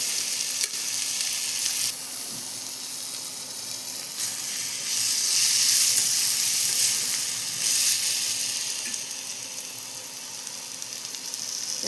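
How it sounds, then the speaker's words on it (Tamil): Mango rice made with leftover rice is stirred in a hot pan with raw mango, giving a steady frying sizzle and hiss, with soft scrapes of the spoon coming in short swells. "நல்லா இந்த அளவுக்கு நல்லா கிளறி விட்டுட்டு கொஞ்சம் வேகட்டும்."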